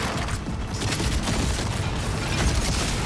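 Dense, continuous gunfire and explosions from the video game Gears of War: E-Day, a loud, frenetic battle din with no pauses, heard alone without talk.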